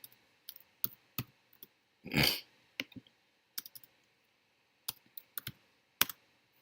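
Keyboard typing up close, scattered quiet key clicks at an uneven hunt-and-peck pace with a brief louder rustle partway through, no talk.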